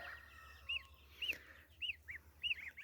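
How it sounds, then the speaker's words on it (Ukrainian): Domestic geese honk faintly in the distance on a farmyard, four short calls spaced about half a second apart over a low background hum. "у нас чутно гуськи кричать."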